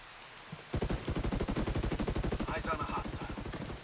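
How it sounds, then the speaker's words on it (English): Rapid automatic gunfire in the Ghost Recon Breakpoint open beta, a loud steady burst of closely spaced shots running for about three seconds after a faint lead-in, with a few higher tones over the later shots. "I'm taking fire."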